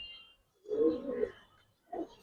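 A single Giribaz pigeon gives a soft, close coo, a rolling low call followed by a shorter second note after a brief pause.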